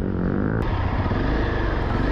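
Several dirt race motorcycles at a Nepal racer cup event fire up and idle loudly at close range, a dense continuous engine roar with rough revving and no speech.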